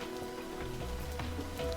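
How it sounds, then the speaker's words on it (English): Rain drums steadily against apartment windows in a dark video game scene, a dense continuous patter with no voices over it. "the rain hammers against the windows"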